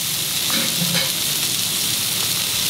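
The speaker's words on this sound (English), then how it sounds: "You see the oil is so hot, so still it is boiling." Hot oil still bubbling in a pan of Goan mackerel fish pickle after the flame is turned off, a steady bright fizzing sizzle with faint crackles, close and continuous without speech.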